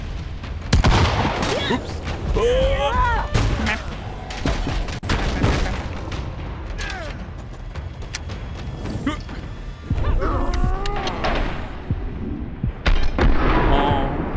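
Gunfire in the VR game Blade & Sorcery, sharp repeated shots popping amid impacts and crashes, loud and close, with a man exclaiming over the action.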